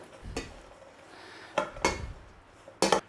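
Cubed bread tossed with olive oil in a bowl, giving three separate clinks and scrapes of a utensil against the bowl, with quiet gaps between them.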